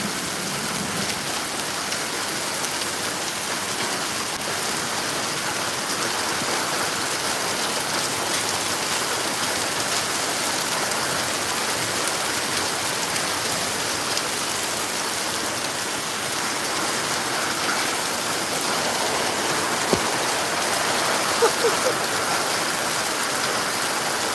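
Heavy hail and rain pour down in a steady, dense hiss of countless impacts, with a few sharper hits near the end and no talking.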